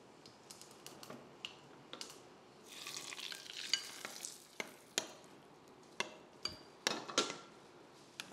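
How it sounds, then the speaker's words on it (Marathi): Cumin tempered in ghee is poured into curd rice and sizzles faintly for a moment, among light, scattered clicks of stirring in a quiet kitchen. "यामध्ये अर्धा चमचा तुपाची फोडणी घालायची आपल्याला जिऱ्याची"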